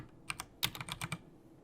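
A short burst of computer keyboard typing in a lab design software tutorial, about eight quick keystrokes in an irregular rhythm, close and fairly quiet with no talking.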